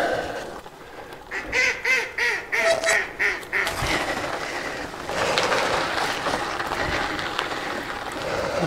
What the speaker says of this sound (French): Salut les canards.